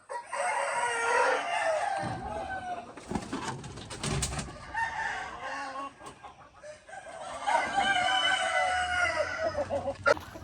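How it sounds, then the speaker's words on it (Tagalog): White leghorn hens cluck and a rooster calls on a farm, with repeated close clucking in bursts separated by brief rustling and handling noises. "nasalang na natin yung rooster"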